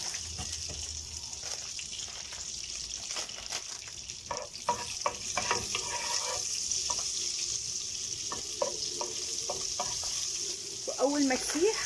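A spoonful of oil and a small knob of butter melt together in a pot, giving a continuous gentle sizzle with scattered crackles and stirring clicks, a brief watery bubbling near the end, and no talking.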